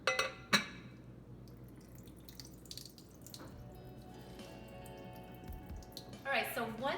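Rinse water drains from soaked oats into a kitchen sink, a running trickle and splash with a couple of sharp clinks at the start, then louder gurgling near the end.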